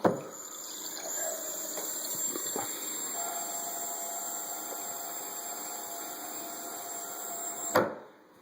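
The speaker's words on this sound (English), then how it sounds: "when you want to pour the head, you push back on it" Nitro beer being poured from a tap at a brewery, a continuous hissing rush with a faint whine, steady for several seconds before ending in a brief sputter, close and alone without speech.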